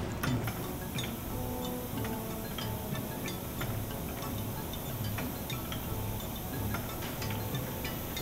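A hand ink roller rolls printmaking ink across a slab, making a soft, steady, tacky crackle with scattered tiny clicks. It stays quiet and continuous for several seconds, with no talking.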